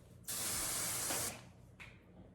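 Root-cover hair spray fires through a small nozzle in one close, loud hiss lasting about a second, followed by a much shorter, fainter puff.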